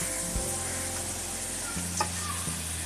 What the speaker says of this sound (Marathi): ब्रेड आपण बेसनमध्ये चांगलं असं बुडवून घेऊया आणि आता आपण हे तेलामध्ये सोडून देऊया